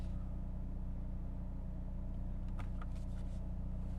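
A 2022 Hyundai Kona N idles steadily with launch control engaged, a low constant engine hum with a couple of faint higher blips near the end and no talking.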